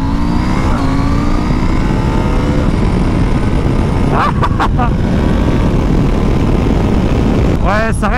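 A KTM 890 SMT motorcycle accelerates on a motorway with a loud, continuous engine roar and heavy wind rush, and its revs climb in rising sweeps near the end.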